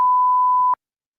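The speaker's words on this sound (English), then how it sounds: "This is the standard sitcom beep, so I'm going to assume it's okay." A standard sitcom-style censor beep, a single steady 1 kHz tone lasting under a second, loud and clean, then cut off into silence.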